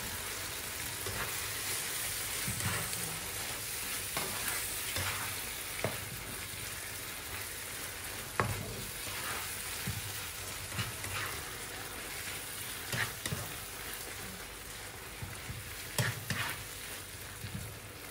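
Shrimp pasta sauce with cream sizzles and frizzles steadily in a hot pan while being stirred, with scattered scraping clicks from the utensil, no talk.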